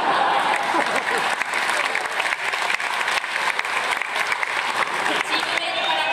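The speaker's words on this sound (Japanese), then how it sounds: "チームメイトからも拍手が起こっています" Steady applause from a small group of volleyball teammates at a team celebration event fills the whole stretch, dense clapping at a fairly loud level with a faint murmur of voices underneath.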